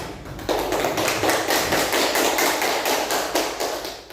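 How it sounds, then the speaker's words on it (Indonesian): Applause in a classroom, a dense patter of many hands clapping that bursts in after a short pause and holds steady and close, fading slightly near the end. "Kita berikan aplaus untuk Aida."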